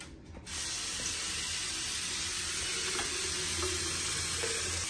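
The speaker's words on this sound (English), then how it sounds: "Now what I'm gonna do is I'm gonna wash it." An object being washed under running tap water while on vacation in Jamaica, a steady close hiss of flowing water that starts after a brief quieter moment and continues evenly, with faint clicking mechanical rattles underneath.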